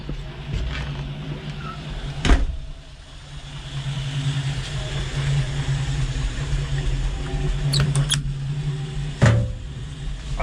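A 1974 Jeep CJ-5 engine runs steadily with a low, continuous idle rumble, close and fairly loud, with a few brief knocks and clunks over it.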